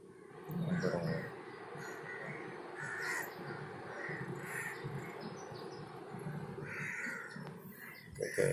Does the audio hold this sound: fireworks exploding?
no